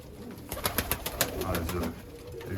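Iraqi pigeons in a loft in Germany, a low continuous cooing and rustling chorus with a series of sharp ticking taps across the first second and a half, steady and moderately close.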